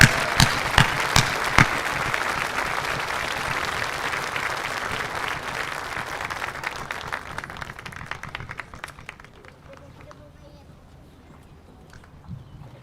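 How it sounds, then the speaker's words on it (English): Audience applause at a senior awards ceremony: a crowd claps steadily, loud at first and gradually thinning out, fading to scattered claps by the end. "Can we please give Braden a round of applause for his future service?"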